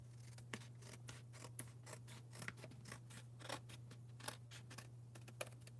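Scissors snip repeatedly, cutting paper or card in a craft setting, with a crisp irregular series of close, quiet cuts over a steady low electrical hum and no speech.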